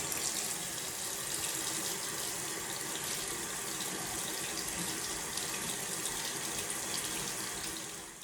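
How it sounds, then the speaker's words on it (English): Lukewarm water runs steadily from a sink tap as a luxury fude makeup brush is rinsed beneath it, a constant full splashing rush with no voices. "Once you're done with the running water,"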